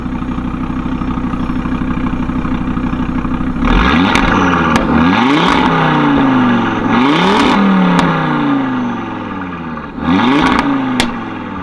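A 2015 Audi RS3 Sportback with its turbocharged five-cylinder and standard exhaust idles, then is blipped repeatedly, loud revs that flare up and fall back several times in sharp, close bursts.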